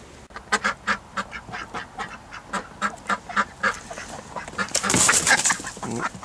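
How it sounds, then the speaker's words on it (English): Ducks quack repeatedly in a steady run of close, rhythmic calls while out in winter snow in a suburban backyard, building into a louder, denser flurry of quacks near the end. "So let's see how the ducks get on with the snow."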